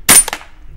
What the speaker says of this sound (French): Donc test de tir du Scarache WE.